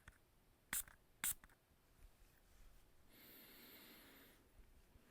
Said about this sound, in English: Now let's do a couple sprays of this one.